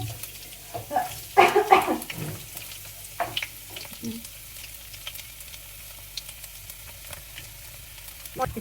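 Garlic and ginger frying in a pan for a stew, a soft, steady sizzle with brief bursts of stirring and clatter near the start, quieter crackling afterward, no talk.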